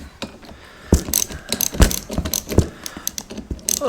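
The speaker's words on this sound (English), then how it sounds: "this little 3/8 drive ratchet set's kind of a nice set" A small 3/8-inch drive ratchet set being handled, with metallic clicks, rattles and clunks of tools and sockets knocking together up close, irregular and busy.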